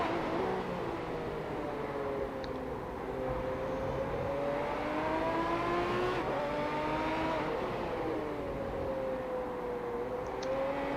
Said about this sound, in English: looking out the back of Katsadonis' car now